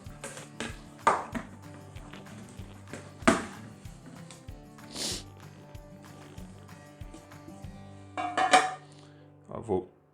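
Metal spatula or knife scraping and tapping around the sides of a sponge cake baking pan, with scattered clinks and knocks of the metal pan on a hard surface, close and moderately loud.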